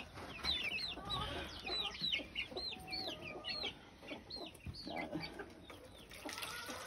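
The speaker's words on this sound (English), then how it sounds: "That's our supposed to be our Easter legger chickens right here." Easter Egger, Dominique and Red Rock hens cluck repeatedly in a backyard coop, a busy chorus of short, rising calls at moderate distance, with soft shuffling and faint background noise.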